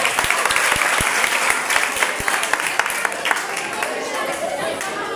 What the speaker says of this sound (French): Je vous demande d'applaudir Maître Jean-Pierre et Maître Maniga, s'il vous plaît. Chaudement.